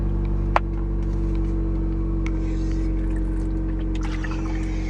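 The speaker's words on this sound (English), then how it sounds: "Sorry if you can hear that engine." A car engine runs throughout with a steady, close, low drone and hum that never lets up, broken only by a single sharp click near the start.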